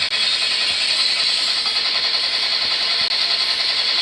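AK-47 rifle fire as a sustained, dense, loud burst rattling continuously for several seconds, with no voices over it.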